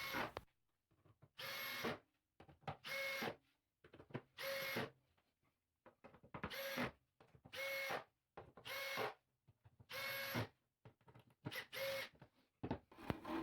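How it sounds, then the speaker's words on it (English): A power drill pre-drills and drives screws to fix a crosscut sled for a DeWalt table saw in position, with about ten short whirring bursts separated by brief pauses, close and fairly loud. "Once dry, it could be pre-drilled and screwed into position."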